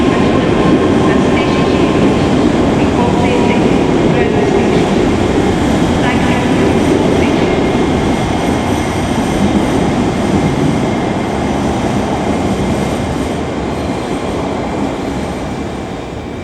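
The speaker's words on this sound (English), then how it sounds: "just departing that away is a Scotrail service to Lanark" A Scotrail passenger service to Lanark pulls out of Glasgow Central station, its steady loud rumble and rail noise filling the platform before slowly fading as it departs.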